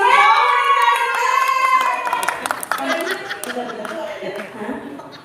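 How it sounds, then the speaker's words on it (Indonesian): An audience at a Betawi pantun festival bursts into scattered clapping and chuckles, loud at first with a sung or drawn-out voice over it, then thinning into lighter claps and laughter. "beri tepuk tangan yang real."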